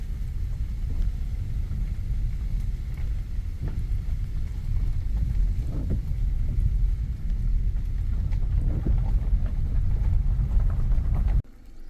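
A car drives along a back road in the rain, giving a steady, loud low rumble of road and tire noise with faint patter throughout, no talking, and an abrupt drop at the very end.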